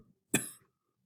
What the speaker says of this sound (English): Go away, cough.